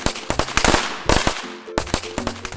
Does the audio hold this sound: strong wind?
no